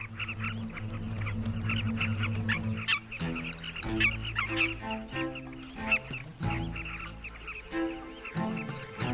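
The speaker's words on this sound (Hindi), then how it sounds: "वहीं थोड़ी दूर कुछ पक्षियों में हड़कंप मच गई है।" A flock of birds in wild grassland calls in a noisy commotion, with overlapping honking and quacking cries rising and falling in busy bursts over a steady background.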